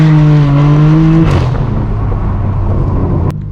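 A straight-piped BMW M4 on Hollywood streets roars loudly with a high, steady exhaust note. It drops abruptly as the revs fall, then settles into a coarse, rumbling drone with a sharp crack near the end.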